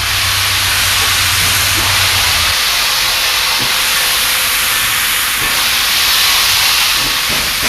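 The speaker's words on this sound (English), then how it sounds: "That's why you only see this spectacle of steam coming out of the engine when it first makes its run in the mornings." A steam locomotive vents steam from its cylinders in a loud, continuous hiss that stays close and steady throughout, with a low rumble fading early on and faint clanks beneath.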